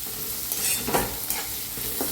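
Chopped onion sizzling in a pan for masala brinjal, stirred with a spatula, giving a close continuous frying hiss with a few scraping strokes.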